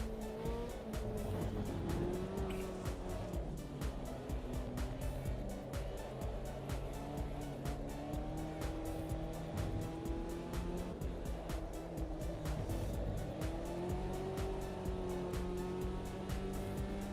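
A race car in a sim racing game roars continuously with rising and falling engine pitch as the throttle is feathered, mixed with sustained tire squeal, loud and steady throughout with no talk.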